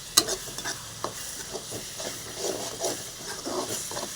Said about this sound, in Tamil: பார்த்தீங்களா எண்ணெயில் எப்படி வதக்கி வச்சுன்னு பார்த்தீங்களா